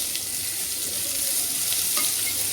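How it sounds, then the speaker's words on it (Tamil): Sizzling from ingredients sautéing in a hot pan, a steady, close frying hiss that runs unbroken from start to end with no talking over it. "அப்படியே தக்காளியும் போட்டு வணக்கிக்கலாம்."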